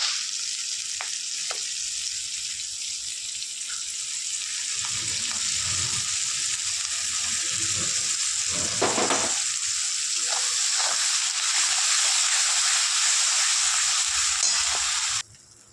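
Spice paste frying in a kadai with oil, onion and capsicum, a continuous close sizzle and hiss with occasional stirring scrapes, growing slightly louder before cutting off at the end.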